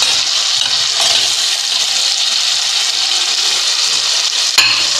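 Tomatoes tipped into a garlic, ginger and green chili paste for biryani, frying with a steady, loud hiss and sizzle throughout, a soft clink near the end.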